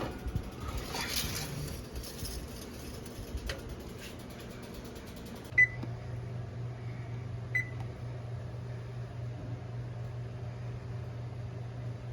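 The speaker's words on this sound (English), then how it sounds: "I'll put my timer on my oven." A kitchen oven timer being set gives two short, clear electronic beeps a couple of seconds apart over a low, steady appliance hum, with no one speaking.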